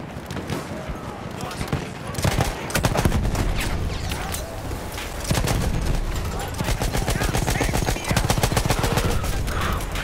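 Rapid bursts of rifle fire in the World War I shooter Battlefield 1, dense and loud with repeated sharp shots over about ten seconds, mixed with game noise.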